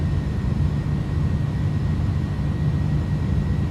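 Jet engines of an iniBuilds A310 at takeoff power in Microsoft Flight Simulator, a steady loud broadband roar with low rumble and a faint high whine, continuous throughout.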